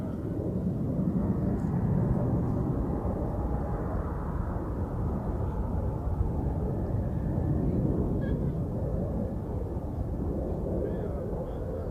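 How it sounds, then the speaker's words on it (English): A long-haul airliner such as an A350 taking off at Zurich Airport, bound for Tokyo: a loud, sustained low jet roar that stays steady and heavy for the whole stretch, with a breezy rumble mixed in. "takeoff to Tokyo."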